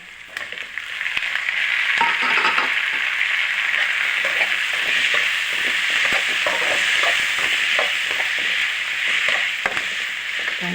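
Onions and tomatoes sauté in a pan for a bitter gourd curry, a steady loud sizzle with frequent scraping and stirring taps throughout, no talk.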